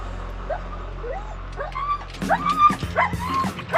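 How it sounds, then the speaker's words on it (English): A police dog on duty with officers whines and yips in rising, eager bursts, faint at first, then louder and more frequent as the excitement builds. No one speaks. "Police dog Tia is primed for action, ready to support a significant firearms presence."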